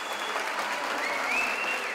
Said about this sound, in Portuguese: Os aplausos da noite do dia 1º de dezembro foram em homenagem àqueles que prezam pela segurança pública da nossa cidade